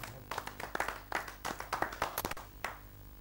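An audience at an Indian poetry gathering claps to welcome a poet to the stage, with a scattered, fairly quiet round of individual hand claps building irregularly over about three seconds.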